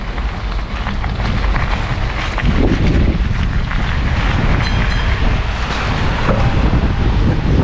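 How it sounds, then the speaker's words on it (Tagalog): Strong storm-like wind buffets the microphone in a steady, loud roar, with low rumbling gusts throughout and no voices. "Malakas pala yung hangin."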